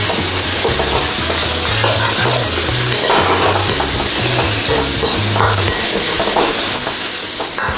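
Mushrooms stirred and sautéed in a pan for a tofu, quail egg and kale dish, with a steady loud sizzle and repeated scraping strokes of the spatula close up, no voices.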